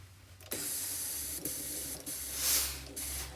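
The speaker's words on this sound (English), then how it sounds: "Feel free to use a bit of steam if it feels necessary." A steam iron pressing the seams of a casual shirt during sewing, giving several loud hissing bursts of steam in quick succession, each broken by a brief pause, close and with no talk.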